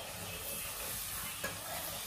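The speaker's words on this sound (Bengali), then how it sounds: "আর একটু নাড়াচাড়া করো।" A beef and raw jackfruit curry is stirred in a pan, making a faint, continuous hiss of sizzling and soft scraping, with one brief knock near the end and no voices.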